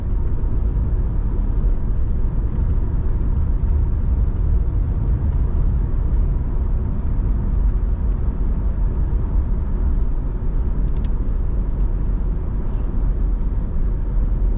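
A car drives on a road, giving a steady low rumble of engine and road noise from inside the cabin, continuous and unbroken.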